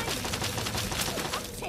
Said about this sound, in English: I'm in the mood to shoot people.